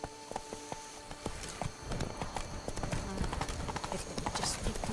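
Roach, a horse in The Witcher 3, trots with quick, rhythmic hoof clip-clops over a busy game soundscape, while a voice speaks over the hooves.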